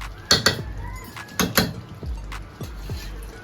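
Metal spoon scraping and knocking against a pan while ridge gourd is stirred into aloo posto curry, a series of sharp clinks and scrapes in uneven bursts, close and fairly quiet.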